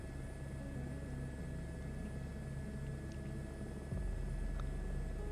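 Airbus H125 helicopter in flight during a Yellowstone search and rescue mission, a steady low rotor and turbine drone heard from inside the cabin, continuous and fairly even, with no talking.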